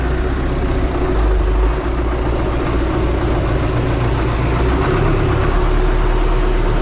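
Ursus 1224 tractor engine idling unevenly, a steady, loud, low diesel rumble that runs continuously and close by throughout.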